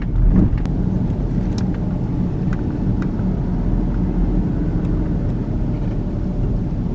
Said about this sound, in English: I'm driving through residential, heading towards downtown.